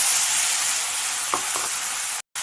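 Steady, close sizzle of pirandai (adder's creeper) frying in a pan after tamarind water is added for pickle, a continuous hiss with a couple of brief stirring clicks and no talk.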